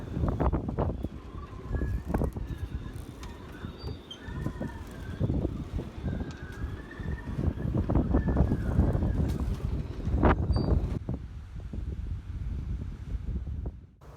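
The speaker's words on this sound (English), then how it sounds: "Whenever the wind picked up, there was a lot of movement in the marina." Wind gusting steadily through a marina while moored boats shift and creak on choppy water, a continuous loud rush with intermittent knocks and faint rigging whistles, no talking.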